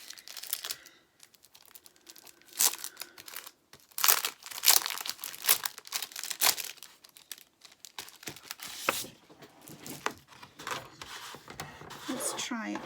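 Paper handled for a handmade memory book craft project: continuous crinkling and rustling sheets, close and fairly loud, with irregular bursts of crumpling and a person talking over it.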